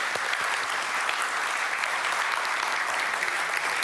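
An audience at a high-level conference applauds after a panel debate, giving steady, dense clapping that fills the room evenly for several seconds without a break.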